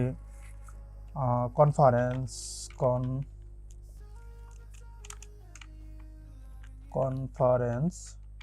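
Computer keyboard keys clicking softly as an email subject line is typed, a quiet run of light taps between stretches of someone talking close by.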